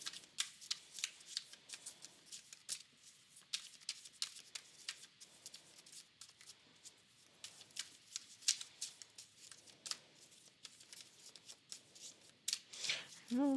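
Tarot cards shuffled and drawn by hand, a dry papery riffle of rapid soft flicks and slaps repeating through, close and fairly quiet, with occasional faint speech.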